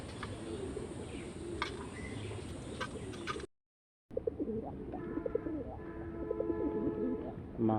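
An active male red pigeon gives repeated cooing calls close by, rising over a steady noisy background of other birds, with a brief gap of silence partway through.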